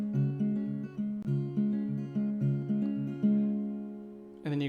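On acoustic guitar, the fingerpicked riff from a song rings out as a gentle repeating pattern of plucked notes, near and fairly quiet, ending on a final strummed chord.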